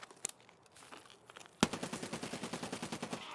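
Rapid automatic fire from a SCAR rifle in Escape From Tarkov: a couple of sharp isolated shots, then a sudden loud sustained burst of evenly spaced reports, close and dominant with no talk.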